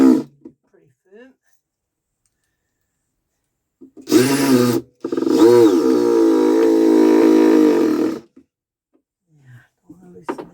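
Cordless power drill driving three screws into timber during backyard digging and concreting work, a loud steady whir of about four seconds after a brief burst, close up, with quiet gaps around it.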